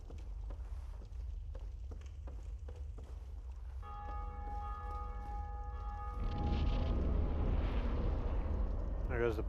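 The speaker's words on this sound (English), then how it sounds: "There goes the bell again." Bell tolling in Dark Souls, a sustained ringing tone that starts partway through over footsteps and a low rumble, with game noise growing louder toward the end.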